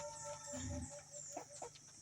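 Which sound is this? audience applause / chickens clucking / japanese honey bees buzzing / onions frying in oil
chickens clucking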